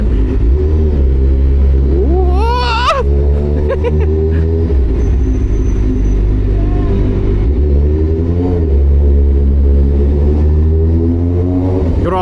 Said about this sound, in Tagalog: Grabe naman traffic yan, man.